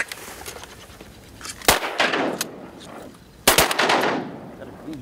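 Two loud shotgun blasts ring out during a South Dakota duck hunt, the second about two seconds after the first, each followed by a fading echo over open outdoor background noise.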